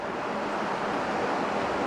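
A river flowing beside a hiking path in the Scottish hills near Sgòr Gaoith, a steady, full rushing wash that holds evenly throughout with no talk.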